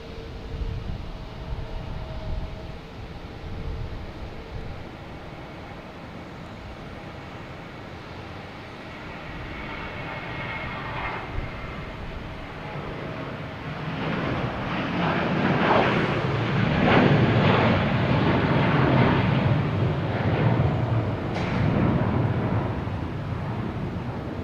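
JetBlue airliner heading to San Francisco at Boston Logan Airport, a broad jet roar that swells louder over the second half and stays steady to the end, with no talking.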